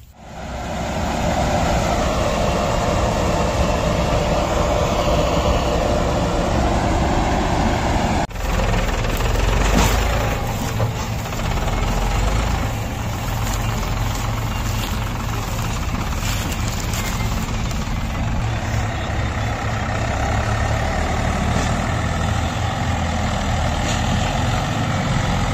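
Combine harvester running near a wheat field, a loud continuous engine drone with heavy machinery rumble, shifting in tone partway through as the machine works close by, no speech.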